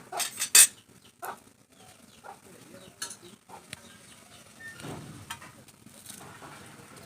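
A knife chops fresh, young coriander leaves on a board in a home kitchen: sparse, quiet taps and cuts spread out unevenly, with one sharper clack near the start and low background noise between strokes.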